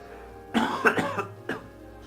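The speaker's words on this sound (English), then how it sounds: "excuse me for a second, I have to cough" A few harsh coughs in quick succession, close and fairly loud, with a final cough after a short pause.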